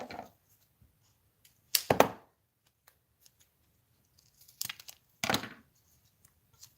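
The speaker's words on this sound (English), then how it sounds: "some foam adhesive. Just cut down a little piece." Three crisp scissor snips cut a small piece of foam adhesive for a handmade card, close and clear, separated by quiet pauses.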